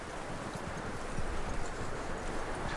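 Horse hooves clip-clopping in the video game Red Dead Redemption 2, a steady run of close hoofbeats blended into dense, continuous outdoor ambience at moderate loudness.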